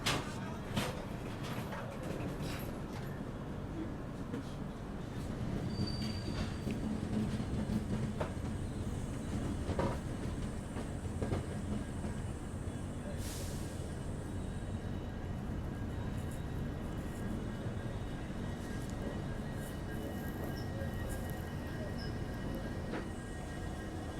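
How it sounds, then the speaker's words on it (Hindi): The Kashi Vishwanath Express pulling out of busy Moradabad station, a steady low rumble of carriages with rail clatter and occasional squeals, fairly faint and continuous for the whole stretch. "चलिए फ़िलहाल यहाँ से हमारा डिपार्चर हो चुका है मुरादाबाद से"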